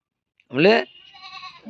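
Goats bleat loudly in a shed, one strong wavering bleat up close followed by fainter, thinner calls in the background.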